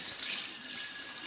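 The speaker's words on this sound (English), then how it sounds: "Getting the old bowl washed out." Water rinsing out a rock tumbler bowl indoors, a few short splashy gushes followed by a softer trickle, close and fairly loud with no talking.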